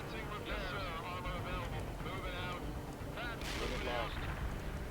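Artillery barrage in a video game, heavy booming blasts and rumbling explosions layered over a player's voice talking, dense and loud throughout with a sharp burst near the end.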